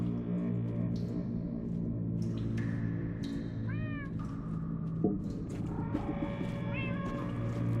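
Several cats in the Minecraft: Story Mode video game meow in a string of short, rising and falling cries over a steady musical drone, with some calls overlapping, fairly close and clear.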